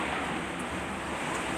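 Strong wind blows outdoors in a rural area, a loud, steady broadband rush with gusty buffeting on the microphone and no voices.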